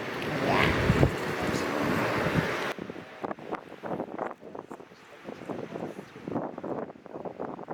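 Strong wind on a White Mountains summit near Mt Bond and Bondcliff roars and buffets the microphone for a few seconds, then cuts to quieter, uneven gusts and rustling.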